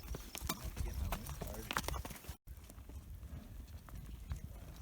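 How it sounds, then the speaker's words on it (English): Horses walking across a summer pasture toward the listener, their hooves clip-clopping in a steady close rhythm, with outdoor noise throughout and a brief cut midway. "we got the fat horses coming to see us"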